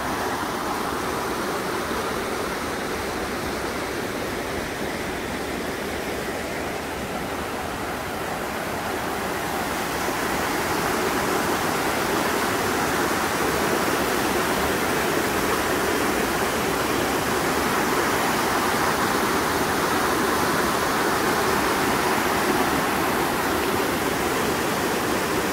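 Trümmelbach Falls roars as a dense, constant waterfall rush, loud and unbroken throughout, with no voices.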